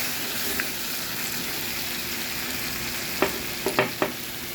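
Tomato and onion with salt being stirred in a pan, for a spicy dried-fish thokku: a steady sizzle with a few sharp scraping strokes of the spoon near the end.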